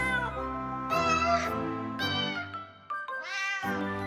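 A cat meows several times in a row, clear and close, each call rising and falling in pitch.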